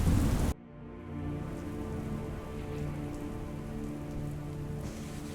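Steady rain falling during a storm, a cartoon sound effect, with a dense hiss of raindrops continuing evenly after a brief louder burst at the start, with no voices.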